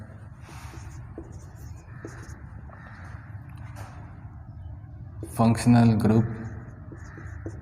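Pen writing a chemistry definition by hand, soft scratchy strokes repeating in short bursts while someone speaks over them in a classroom-style lesson.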